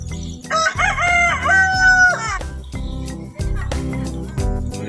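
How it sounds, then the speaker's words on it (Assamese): A rooster crows loudly and close by on a village farm where chickens roam. One drawn-out crow is followed by scattered clucks, knocks and background activity, with faint voices nearby. "মুৰ্গীবিলাক দাউৰি আছে।"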